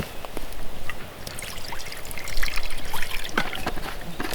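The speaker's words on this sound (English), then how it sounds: "Put a little water" Water poured into a cooking pot outdoors on a hike, a continuous trickling splash with small irregular drips, close and fairly loud, no talking.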